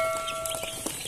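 Young broiler chicks on a small farm give a few soft, brief clucks and peeps, close by against a faint steady background hum, with no talking.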